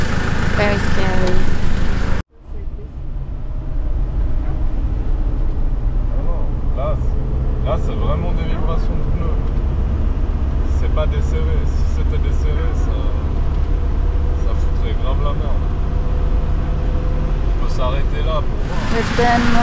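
A vehicle drives on a highway after repairs for a dangerous death wobble, its engine and road roar loud, close and continuous, with faint rattles over the drone and a voice talking over the noise.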